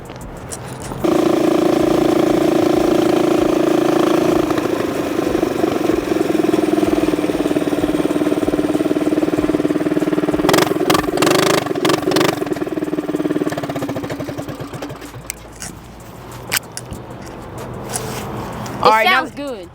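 A repaired motorcycle engine idles steadily and close for several seconds, then revs with sharp bursts before settling and fading, with a voice briefly heard near the end.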